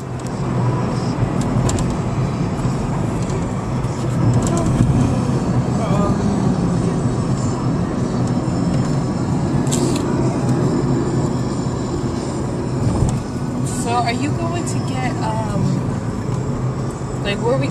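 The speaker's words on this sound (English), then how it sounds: "just driving in the car" Steady road and engine rumble from inside a moving car, continuous and fairly loud throughout with a few brief bumps and clatters, and some talking mixed in.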